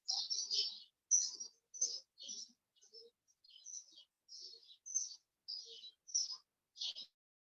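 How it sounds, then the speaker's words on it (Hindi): Birds chirping outdoors in short, clear, high tweets repeated at a steady pace against a quiet background. "ये जो चिड़िया का आवाज है वो सबको महसूस कीजिए।"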